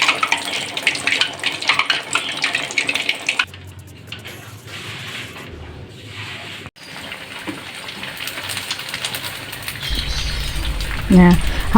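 Pempek fish cakes fry in hot oil that crackles and sizzles steadily, with a louder burst of spattering and a few sharp pops near the end.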